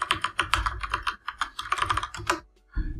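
Quick, steady clatter of computer keyboard keys being typed, close and clear with no talking over it, as someone sets up a PHP password hashing file in Visual Studio Code.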